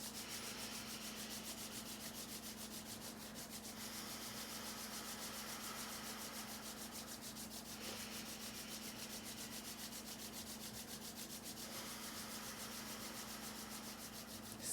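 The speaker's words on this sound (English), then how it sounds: "Let's rub our hands together." A pair of hands rub together briskly and steadily in a continuous dry swishing over a low, constant background hum, with no one talking.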